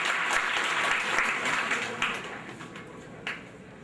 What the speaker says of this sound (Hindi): तो इनके स्वागत में मैं जोरदार तालियां हो जाए